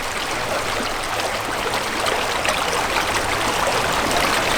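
Natural mineral water runs in a steady stream from an outdoor tap or spring, a continuous close splashing trickle with no talk over it.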